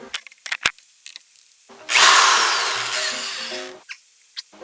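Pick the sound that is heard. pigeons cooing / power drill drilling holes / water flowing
power drill drilling holes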